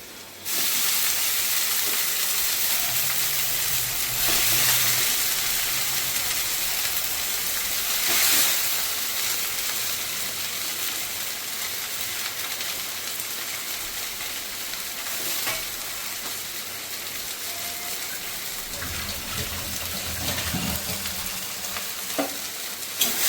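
Jute leaves dropped into a hot pan give a loud, dense sizzle and hiss that holds steady throughout, with occasional scraping bursts as the leaves are stirred.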